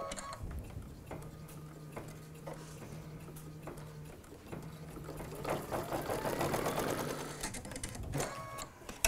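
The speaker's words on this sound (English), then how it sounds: "put it back in to the machine, and we're going to run the next tacking stitch" A sewing machine runs a tacking stitch for appliqué danglers, its motor humming steadily with rapid ticking needle strokes, close and continuous with a short break midway.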